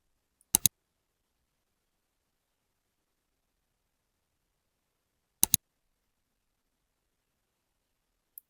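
Paired mouse clicks sound twice, a few seconds apart, as an order is placed in the Binance app, with a fainter click at the end against silence.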